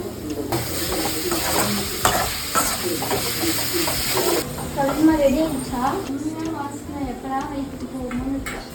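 Ginger, garlic, coriander and mint are stir-fried in a pan for a spicy mushroom pepper fry, with a continuous close sizzle and repeated scraping and clattering of a spoon against the pan throughout.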